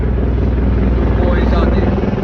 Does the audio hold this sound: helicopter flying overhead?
yes